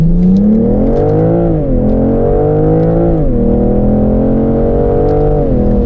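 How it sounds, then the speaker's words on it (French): A 2021 BMW M440i Coupé accelerates with a smooth, loud engine note that climbs steadily, dipping briefly at unhurried automatic gear changes before rising again, heard from inside the car without talk. "Allez, petite accélération."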